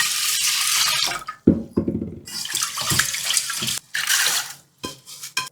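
Water runs and splashes in bursts over sushi rice being rinsed in a bowl for the final wash, with rushing pours broken by short pauses and drips.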